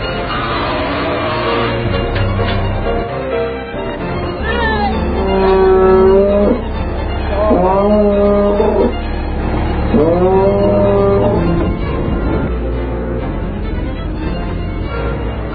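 Dairy cows on a farm give several loud, drawn-out moos one after another over a continuous background of livestock noise.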